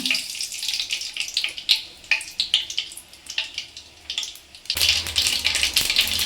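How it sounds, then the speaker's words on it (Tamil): Mustard seeds spluttering in hot oil while a chicken gravy is cooked: a dense, crackling sizzle with rapid irregular pops, close and steady, growing louder and fuller toward the end. "கடுகு நல்லா பொரியட்டும்."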